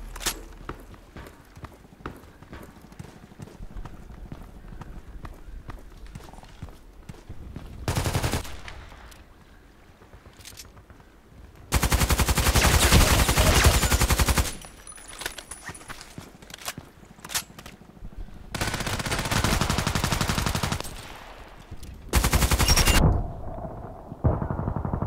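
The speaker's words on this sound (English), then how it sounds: "Who's shooting at me already?" Gunfire aimed at the player in a sniper game, sharp rapid shots close by, then long loud bursts of automatic fire broken by short pauses.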